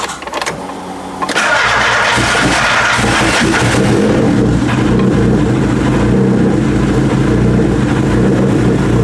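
A turbocharged Volkswagen Golf MK2 cranks and fires up, then settles into a loud, steady, rough idle with some revving, close to the microphone and with no talk over it.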